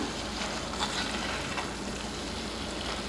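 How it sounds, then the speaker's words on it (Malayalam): Anchovy peera with grated coconut and a drizzle of raw coconut oil, stirred in a pan under a soft, steady sizzle with faint scraping, even and unbroken throughout. "ഇനി അവസാനമായിട്ട് നമുക്ക് കുറച്ച് പച്ച വെളിച്ചെണ്ണ ഒഴിച്ചു കൊടുക്കാം ചെറുതായിട്ടൊന്ന് നമുക്ക് ഇളക്കി കൊടുക്കാം"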